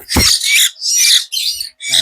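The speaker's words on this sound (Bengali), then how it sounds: "অরিজিনাল সিটাগান ময়না পাখি দেখেন" Loud, close harsh squawks from a hill myna at a bird market, four or five raspy bursts in quick succession with brief gaps between them.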